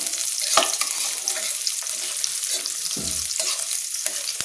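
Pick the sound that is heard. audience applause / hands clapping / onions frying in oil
onions frying in oil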